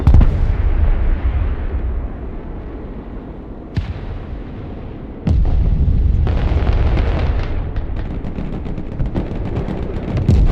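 Loud, dense rocket barrages and explosions from the video game Broken Arrow, a sustained rumbling roar broken by sharp blasts near four and five seconds, with crackling detonations continuing after.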